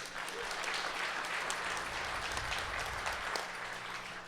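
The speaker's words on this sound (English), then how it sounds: "so a round of applause to them." An audience at a tech event applauds steadily for a few seconds, an even wash of clapping heard from within the hall over a low background hum.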